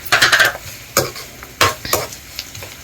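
Chicken frying in a pan for chicken fry curry is stirred vigorously: close, loud scraping and clattering strokes of a utensil over a light sizzle, in several quick bursts.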